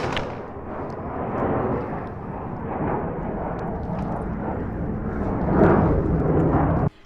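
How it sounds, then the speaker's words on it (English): Military jets roar overhead on a busy flying day, a loud, continuous broadband rumble that swells and rolls for about seven seconds before cutting off abruptly, with no speech over it. "Here's our jets. It's a big flying day today."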